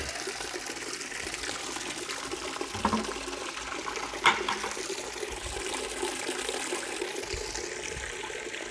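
Steady gush of water pouring into a bucket during a basement drainage test, running continuously at moderate level with a couple of brief knocks partway through.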